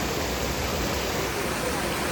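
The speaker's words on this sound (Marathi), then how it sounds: "ही आमची तेरेकोल नदी आहे" Terekol river water flowing near Shirshinge village, a dense, loud, continuous rush of broadband noise close by with no breaks.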